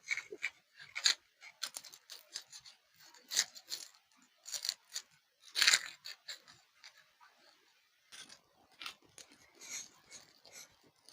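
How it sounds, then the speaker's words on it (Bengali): Onion, ginger and garlic being peeled by hand for mutton kosha: quiet, close bursts of dry scraping, crackling and papery rustling that come and go irregularly. "এইভাবে সব মশলাগুলো, পেঁয়াজ, আদা, রসুন আমি সব ছাড়িয়ে নেব।"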